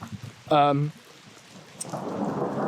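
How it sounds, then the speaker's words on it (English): Thunder rumbles once, loud and close, in a woodland thunderstorm, then steady rain rises and hisses through the rest of the moment. "Oh, more thunder."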